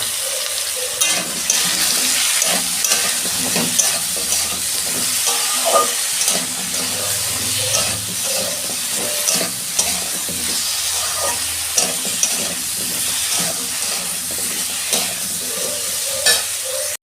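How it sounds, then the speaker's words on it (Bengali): Vegetables fry in a pan for a bottle gourd greens dish, a constant close sizzle punctuated by regular scraping and clattering strokes of stirring, with no talk. "সবজিগুলো ভাজা হয়ে গেছে,"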